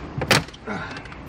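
A dashboard panel is pried loose inside a Hyundai Getz during a head unit install, giving one short, loud plastic crack and scrape near the start, then a softer rustling creak.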